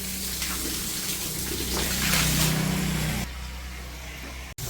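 Running tap water splashes over dirty sandals being washed, a steady broadband gush that swells midway, then cuts to a quieter flow near the end, with a brief sharp dropout.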